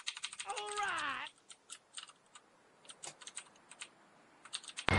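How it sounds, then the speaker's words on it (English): Quick bursts of keystrokes on a PC computer keyboard during Fortnite play, soft irregular clicks and taps close to the microphone, with a short voiced sound over the start. "Do you're on PC? I can hear your keyboard."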